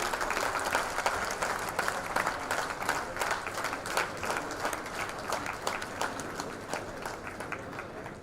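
Sustained, loud applause from the audience at the Majlis Award Ceremony 2016 as an award is presented. Many hands clap in a thick, continuous rattle that stays strong for several seconds, with no voices over it.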